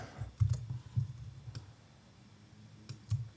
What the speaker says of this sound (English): I'm just hitting Alt on my keyboard and scrolling on my mouse.